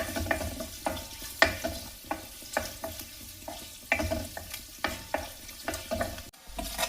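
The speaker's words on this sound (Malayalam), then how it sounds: "ഇത് ചെറുതായിട്ടൊന്ന് വഴറ്റിയെടുക്കണം. എന്ന് വെച്ചാൽ ഒത്തിരി അങ്ങ് മൂത്ത് പോകണ്ട. ഈ ഒരു മീഡിയം ഫ്ലെയിമിൽ വെച്ചാൽ മതി." Boiled eggs sauté gently in a pan over a medium flame, a soft steady sizzle broken by a regular series of spatula taps and scrapes against the pan.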